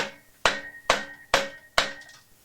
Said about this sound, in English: I've tried even tapping it, with a shaft and quite a big heavy hammer